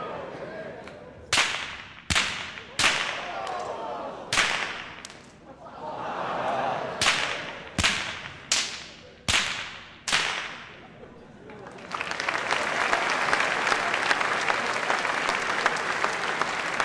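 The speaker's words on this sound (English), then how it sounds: "Thanks to the boys for their whip cracking performance" Sharp whip cracks ring out about a dozen times in an uneven rhythm during a school NAIDOC assembly performance, loud and close, then enthusiastic crowd applause takes over and continues to the end.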